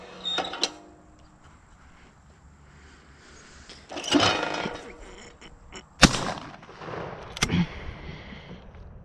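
Shotgun blasts outdoors, a few sharp loud reports spaced several seconds apart, each followed by a short ringing tail, with mechanical clacks of the action between shots and no talking.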